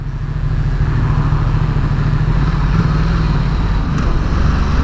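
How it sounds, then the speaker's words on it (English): A Ducati XDiavel motorcycle engine runs at a steady idle, low and rumbling with an even throb, somewhat muted, close by and alone. "The engine sound on the XDiavel is a little bit muted actually."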